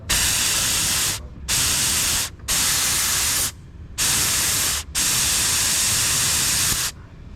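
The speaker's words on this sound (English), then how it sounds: "Back on with my washer jets" Windscreen washer jets on a Vauxhall Cavalier Diplomat spray in five loud, hissing bursts, each lasting a second or more, separated by short quiet gaps.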